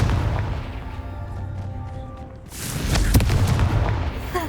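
A Confringo fire spell blasts in the game Hogwarts Legacy, a deep booming explosion that bursts in loud partway through and rumbles on over a low, steady background hum.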